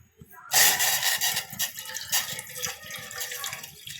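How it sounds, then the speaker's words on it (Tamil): Water from a tumbler splashes and pours steadily into a container for a few seconds, with a voice talking over it. "ஒரு டம்ளர் தண்ணி எடுத்துப்போம் தண்ணி எடுத்து அதை ஊற்றுவோம்"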